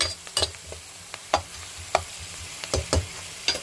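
Grated carrot frying in a pan with a soft, steady sizzle, broken by several sharp scraping stirs and clicks from a spatula at close range, with no voices.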